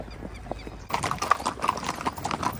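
Marwari horse hooves clip-clopping on an 80 km long-distance ride, a steady rhythmic run of hoofbeats that starts faint and grows louder and more continuous after about a second.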